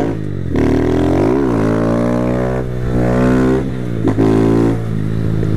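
A matte black Mini Fortuna motorcycle engine runs close and loud, its revs rising and falling in several swells over a steady rumble.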